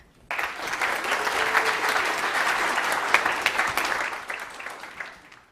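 An audience at a startup competition breaks into applause for a presenting team, dense clapping starting abruptly, holding steady with a few sharper claps, then tapering off toward the end.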